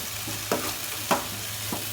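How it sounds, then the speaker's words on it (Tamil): Ginger and garlic sautéing in a pan for an onion gravy, a soft steady sizzle broken by three distinct spoon scrapes at roughly even intervals. "இஞ்சி பூண்டு போட்டு நல்லா இது வதங்கட்டும்"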